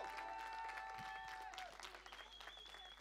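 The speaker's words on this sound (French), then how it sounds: "on peut les applaudir" Crowd applause for volunteers at a medal ceremony, clapping under a tonal whistle or feedback-like tone that fades after a second and a half, leaving softer scattered claps.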